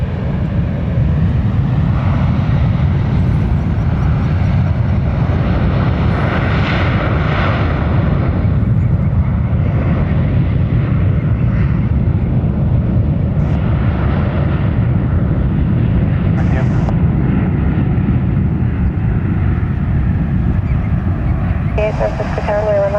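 An airliner lands at San Francisco International Airport, a loud continuous engine roar throughout, with air traffic control radio talk over it.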